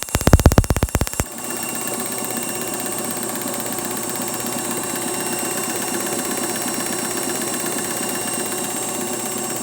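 A Bosch DU2T magneto spins on a test bench, giving a continuous, even mechanical whir with rapid fine ticking, loud and close. A few sharp clattering clicks precede it, and nobody speaks.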